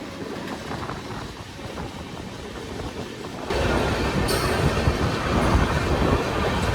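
Howrah–Dehradun Kumbha Express passenger train running through Bardhaman Junction without stopping, heard from aboard as a steady rumble of wheels and carriages that grows louder and brighter midway, with brief squealing and rattling.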